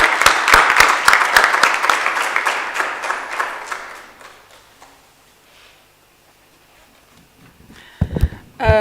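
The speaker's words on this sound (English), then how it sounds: "Can we please give her a round of applause?" An audience at a university lecture hall claps in a loud round of applause that gradually thins and fades away over several seconds, followed by a brief quiet gap before a speaker starts talking near the end.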